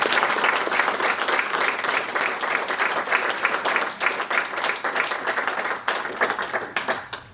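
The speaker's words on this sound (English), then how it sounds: "maybe give a round of applause to thank you both" An audience at the close of a panel discussion on hydrogen gives a lively round of applause. Many hands clap densely and steadily for several seconds, then thin slightly near the end.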